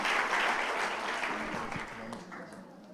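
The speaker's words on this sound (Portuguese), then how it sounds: "Você pode aplaudir a Deus" Applause from a church congregation during a celebration service, a steady wash of clapping that thins out toward the end, with some faint talk mixed in.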